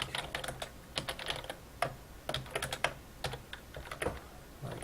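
Typing on a computer keyboard while writing code, quick irregular clusters of key clicks with short pauses between bursts, close and clear.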